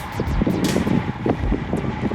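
Wind buffets the microphone while cycling in a fast paceline straight into a headwind as a cool front blows in, a loud continuous rushing roar with gusty low rumbles, no talking.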